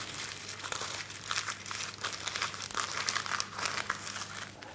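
Continuous crinkling and crumpling of stiff parchment paper being cut into a circle for a lemon tart, close and steady, with sharp crackles throughout and no talking.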